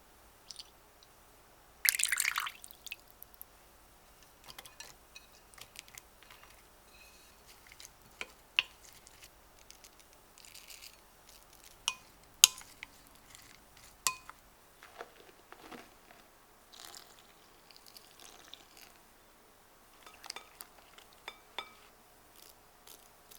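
Soy-vinegar dipping sauce ingredients mixed in a bowl, sparse light clinks, taps and drips of utensil against dish, quiet and irregular with a louder clatter early on.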